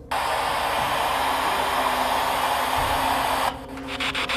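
A ghost-hunting spirit box sweeps loud, constant static hiss for about three and a half seconds, then cuts to quieter rhythmic choppy bursts as the sweep continues; nobody speaks.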